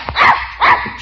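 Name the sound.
dog barking in an old radio show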